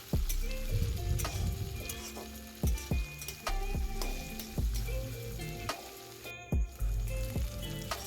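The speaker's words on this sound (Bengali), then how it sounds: "পেঁয়াজগুলো দিয়ে ভালোভাবে এখানে ভেজে নেবো" Onions sizzle and crackle in hot mustard oil over a bay-leaf and dried-chili tempering, with steady frying noise broken by sharp ticks and clinks of a spoon stirring against the pan.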